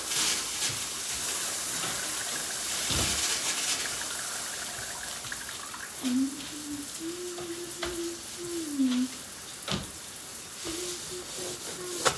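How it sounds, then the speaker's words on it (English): A bathroom shower runs water in a steady broadband hiss, fairly faint and close, with occasional clunks and a few squeaky tonal chirps from handling nearby. "get a shower going there"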